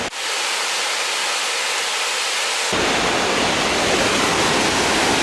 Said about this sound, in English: There is so much more water coming now than there was a month ago.